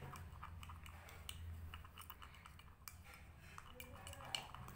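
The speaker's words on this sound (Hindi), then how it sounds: "तो अच्छे से मैं इसे मिक्स कर रही हूँ।" A spoon mixing a homemade skin care paste in a small bowl, with soft repeated clinks and scrapes of metal against the dish, quiet and close with no talking.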